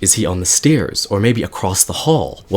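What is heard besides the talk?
No distinct noise like a dog, phone or traffic.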